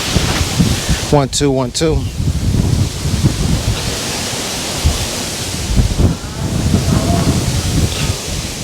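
Turbulent weather brings strong wind buffeting the microphone in loud, continuous gusts with rumbling low bursts, while a voice briefly counts aloud near the start.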